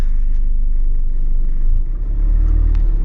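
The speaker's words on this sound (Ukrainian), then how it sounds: "завести нам треба нашого трактора" A diesel mini tractor's engine rumbles steadily up close, a deep continuous low drone that swells slightly around the midpoint, with no talk over it.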